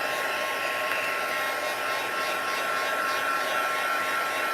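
Hair dryer blowing steadily at close range, a continuous loud whooshing hiss drying hair, unbroken and alone for several seconds.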